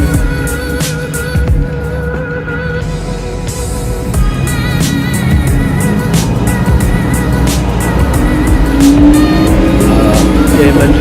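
A Porsche Cayman GTS drives by at a Porsche gathering, its engine note loud and rising with some tyre noise, building over outdoor background sound.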